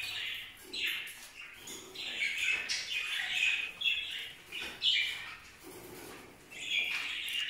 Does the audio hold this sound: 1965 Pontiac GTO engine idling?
no